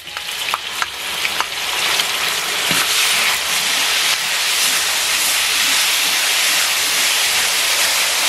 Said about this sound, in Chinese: 下葱姜蒜爆香